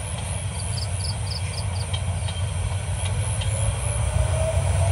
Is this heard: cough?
no